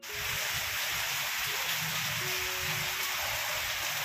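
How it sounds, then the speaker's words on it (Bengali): Heavy rain pours down outside a shed in Bhutan, a steady, dense hiss of falling water that holds evenly for the whole stretch with no voices. "এত বৃষ্টি হচ্ছে বাইরে"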